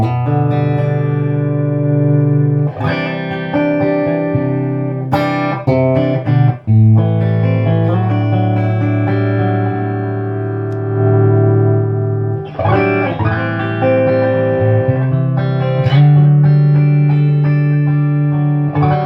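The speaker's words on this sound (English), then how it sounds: "So this amp's not very loud really. It's loud, but not excessively loud." An electric guitar with single-coil pickups plays through a Stromberg Carlson AU57 amplifier, producing strummed chords and single notes with some grit and ringing sustain, moderately loud and heard alone.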